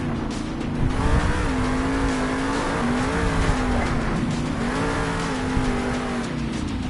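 A monster truck engine revs and roars loudly and steadily as the truck holds a big sky wheelie during a freestyle run at a Monster Jam arena show in Salt Lake City, with the pitch rising and falling over a crowd's noise.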